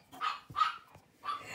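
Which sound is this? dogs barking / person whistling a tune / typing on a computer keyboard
dogs barking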